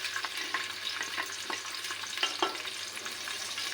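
Onion fries in a spoonful of ghee, a dense close sizzle with constant fine crackling and light stirring taps, steady throughout with no voices.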